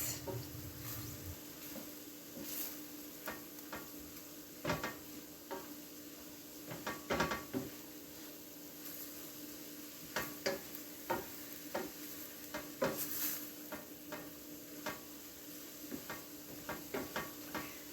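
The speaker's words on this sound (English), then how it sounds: "Going to stir all of this." A spoon stirs lasagna sauce seasoned with paprika in a frying pan, with soft scraping strokes over a steady low sizzle and scattered clicks against the pan throughout.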